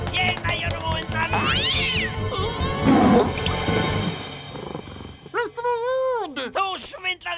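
A cartoon cat in a Smurfs episode lets out several loud, close meows and drawn-out yowls, with a watery drip-like effect and a character speaking between the cries.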